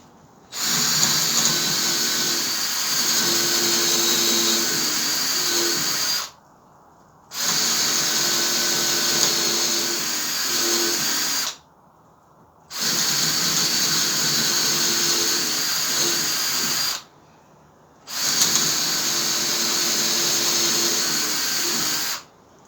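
Power drill boring holes in wood for a garden solitary beehive, running in four long bursts of about five seconds each, separated by short silent pauses; steady, loud and close whine.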